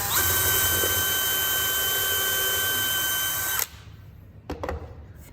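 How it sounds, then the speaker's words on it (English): A power drill drives screws through pre-drilled holes into a wooden planter, whining steadily and loudly up close for several seconds before stopping, followed by a couple of brief handling knocks. "these screws shouldn't split out because I've pre-drilled the hole through both pieces."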